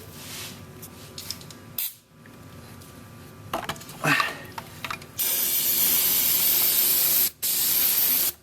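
After some clicks and handling noises, a loud aerosol cleaner spray hisses steadily into an opened car throttle body for a couple of seconds, pauses briefly, then continues.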